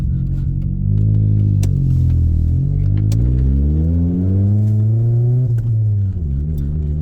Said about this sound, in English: it has a surprising amount of power from just a little 4-cylinder